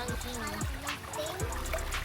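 Water trickles and splashes steadily while laundry is hand-washed with soap outdoors, with a few brief voice-like sounds mixed in close by.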